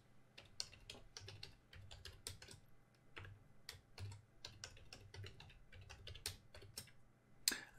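Rapid keystrokes on a computer keyboard as a password is entered while setting up a Windows Server domain controller, with irregular bursts of clicks and brief pauses, close and fairly quiet, with no talking.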